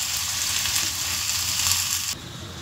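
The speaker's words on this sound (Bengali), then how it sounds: "তো এদিকে পেঁয়াজটা ভাজা হতে থাক" Onions frying in a pan keep up an even, moderate sizzle that drops off abruptly near the end, with no voices.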